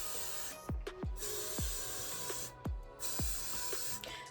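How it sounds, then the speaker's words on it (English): Got2b Glued freeze spray misted onto a pink bang wig in short repeated bursts, a broad close hiss with brief gaps between spurts and no talk over it. "you'll take some Got to Be Glue freeze spray and just spray that in"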